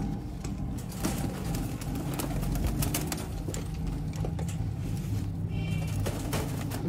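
Sialkoti Shekhan wale pigeons coo in low, repeated murmurs against a busy background of rustling and clicks, moderately close and fairly quiet.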